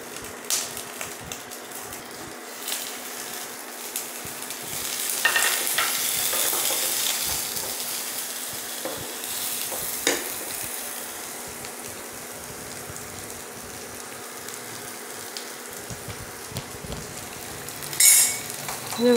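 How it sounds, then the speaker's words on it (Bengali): Potatoes frying in hot ghee in a pan for Kolkata biryani, with a steady broadband sizzle throughout, swelling louder around the middle and with a few sharp spatters and clatters near the end. "এবারে ঘিটা গরম হয়ে গেছে, আলুগুলি দিয়ে দেবো।"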